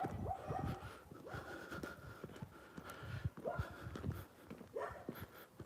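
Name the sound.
small dog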